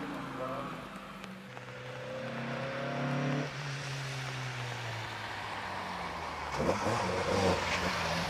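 TVR sports car at the Prescott hill climb, its engine droning with rising and falling revs across a steady run, accompanied by a voice talking throughout.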